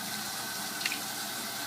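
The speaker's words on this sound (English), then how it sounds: "I'm hoping you can hear over the water sound in the background." Tap water runs steadily into a bowl while basmati rice is rinsed in a home kitchen, a close, even hiss and splash with one brief louder splash partway through.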